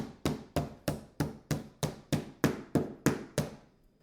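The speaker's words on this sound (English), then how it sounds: "First I pounded it out with the blunt side till it was all about the same thickness" A pork cutlet wrapped in plastic is pounded flat with the blunt side of a meat tenderizer: a dozen evenly spaced, sharp thuds, close and alone, fading slightly at the end.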